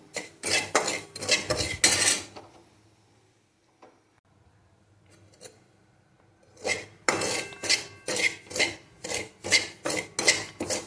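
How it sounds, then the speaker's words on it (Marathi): Rhythmic scraping of a spoon against a pan as semolina is roasted, two bursts of rapid strokes separated by a quiet pause. "हा रवा आपल्याला छान असा लालसर भाजून घ्यायचा आहे।"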